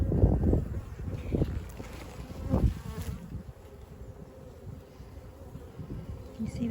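Honeybees hum steadily around an open hive during a springtime hive check at a UK apiary. Outdoor breeze washes over the buzzing, and a few dull handling thumps come near the start.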